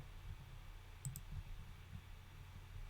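A couple of quick computer mouse clicks, a close double click over a steady low hum of room and background noise, faint and brief.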